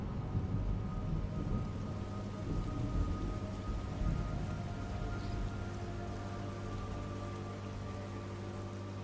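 Steady heavy rain pours throughout, with low rumbling thunder rolling underneath at a fairly loud, constant level, in the video game Metal Gear Solid Delta. No voices.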